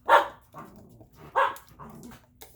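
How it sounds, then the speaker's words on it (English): Dogs playing in a dining room let out a few barks, two louder yelps about a second apart with softer whimpering barks between, fairly close by. "you can hear the dogs. They're playing over there in the dining room"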